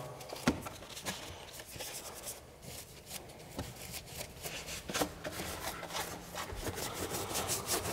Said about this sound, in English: Foam it up a little bit with the brush, make the loose dirt gone.